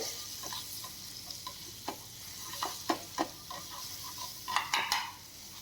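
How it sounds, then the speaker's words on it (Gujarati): Garlic chutney stirred into hot oil over a low gas flame, with a soft steady sizzle and scattered scraping clicks of a spoon against the pan, close and moderately loud, no voices. "આપણે આને આવી રીતે આમ ગેસને સ્લો કરી અને મિક્સ કરશું તેલ સાથે"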